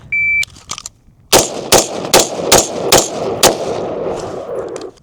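Handgun shots at an indoor shooting range: six sharp, loud reports fired in a quick, fairly even string after a short electronic beep, with no talking.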